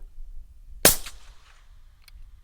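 One sharp, loud rifle shot cracks out of near-quiet, followed a moment later by a faint distant tick of impact.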